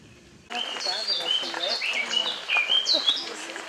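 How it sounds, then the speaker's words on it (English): A small bird chirps and trills repeatedly in quick, bright bursts at a First World War battlefield site, close and fairly loud, calling continuously after a brief quiet start. "Every time I come in, that bird starts."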